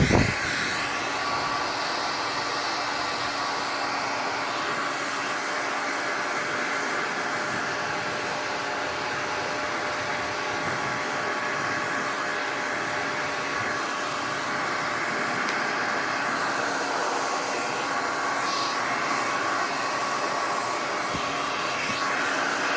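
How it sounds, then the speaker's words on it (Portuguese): Hair dryer blowing on a fabric piece to warm it while sewing a pad holder; a steady, unbroken whooshing whir runs loud and alone throughout. "Eu vou fazer uso do secador de cabelo aqui, para esquentar um pouco a peça."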